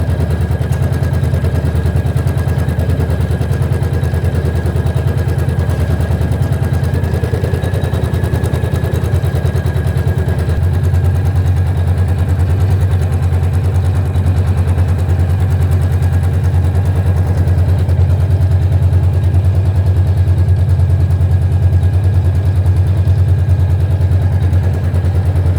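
A Janome MC 500e sewing machine runs continuously during free motion stitching, a rapid, steady mechanical chatter of the needle with a low motor hum, close and loud throughout with no talking.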